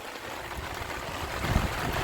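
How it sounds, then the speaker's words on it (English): Water from a driveway drain runs through two perforated 4-inch corrugated pipes into a 12-foot collection pit, giving a steady, close trickle and gurgle with a brief stronger splash near the end. "what water's coming down is going into our collection pit"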